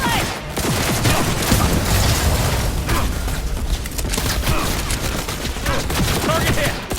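Gunfire during a firefight in Cyberpunk 2077, dense rapid shots crackling continuously and loudly for several seconds amid battle noise.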